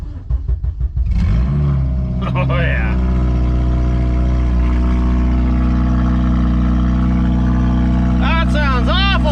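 An 8th gen Honda Civic Si with the exhaust removed roars to life and holds a loud, raw, harsh rev close by, steady and unmuffled, with a person briefly speaking over it.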